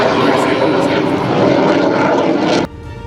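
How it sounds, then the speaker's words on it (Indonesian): Super Tucano and F-16 military aircraft fly low over an asphalt toll road used as an emergency runway, producing a loud, close engine roar that cuts off abruptly near the end, with a voice speaking over it. "Dua jenis pesawat, yakni Super Tucano dan F-16, meluncur rendah, menyentuh aspal tol"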